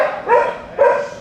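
A dog barks twice in a steady, fairly close rhythm, each bark a short tonal yelp with no talk over it.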